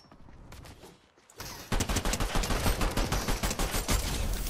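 Pistol fire in the Fortnite video game, a rapid run of loud, closely spaced shots that begins after a short quiet stretch and continues to the end.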